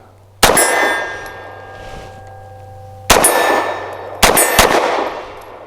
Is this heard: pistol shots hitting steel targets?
yes